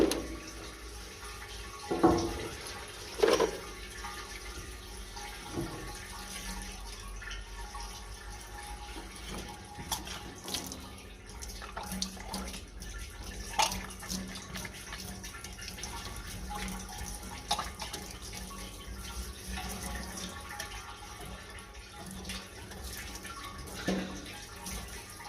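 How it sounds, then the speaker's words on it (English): Water from a parts washer runs steadily over 1968 Triumph T100C motorcycle fork parts, a continuous trickling wash with a few louder splashes and clunks near and far across the span. "So we'll set up the parts washer, throw in a pair of gloves and we'll give them a bit of a bath"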